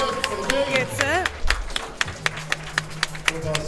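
Audience applause at a weightlifting competition, the Auckland Cup 2024, following a lifter's final successful lift; steady clapping runs throughout with sharp individual claps standing out, while an announcer's voice talks over the crowd.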